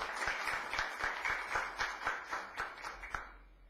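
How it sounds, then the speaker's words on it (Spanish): Applause at a conference on arbitrary dismissal: steady, moderately close clapping from a small audience with individual claps standing out, carrying through and fading toward the end. "Les pido un fuerte aplauso."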